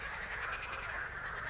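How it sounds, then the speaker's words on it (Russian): A steady chorus of frogs croaking in the distance, a dense pulsing trill that continues without a break. "вообще жабы, когда начинают квакать"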